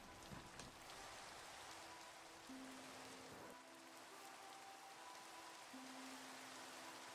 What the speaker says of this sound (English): Time to pick some flowers in the rain.